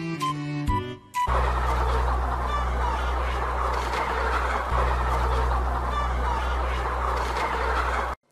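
A dense flock of chickens clucking and squawking continuously, loud and crowded, over a steady low hum, after a brief musical intro.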